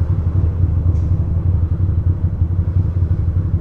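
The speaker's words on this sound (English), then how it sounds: "I'm riding a fucking Ducati for New York City, Manhattan." A Ducati motorcycle rides through midday Midtown Manhattan traffic. The engine's steady, loud low rumble stays close and continuous, and no one speaks.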